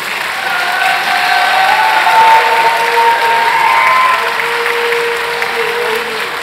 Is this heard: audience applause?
yes